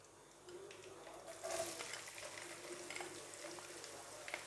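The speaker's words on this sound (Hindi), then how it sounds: "प्याज को डाल के हम इसको थोड़ा सा भूनेंगे।" Soft sizzling of onions frying in oil for masala rajma, a quiet steady crackle with a few brief stirring scrapes, no voices.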